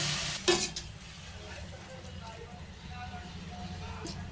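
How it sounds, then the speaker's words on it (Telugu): A steady sizzle of curry cooking in a pan, with a brief splash and clatter near the start as water goes in. "అట్లా ఉడకడానికి కొద్దిగా వాటర్ వేసుకోవాలండి."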